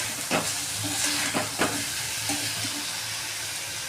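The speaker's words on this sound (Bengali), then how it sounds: "এটাও ভালো করে একটু কষাবো মশলার সাথে" Crab being stir-fried with spices in a pan, a steady close sizzle with a few sharp scraping strokes of a spatula at irregular intervals and no voices.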